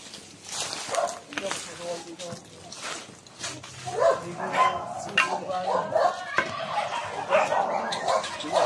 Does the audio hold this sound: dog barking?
yes